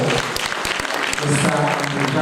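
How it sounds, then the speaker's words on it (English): Audience applause at a national town hall meeting on combating kush in Sierra Leone, a steady dense clapping that fills the whole short stretch, with voices mixed in underneath. "Round of applause for"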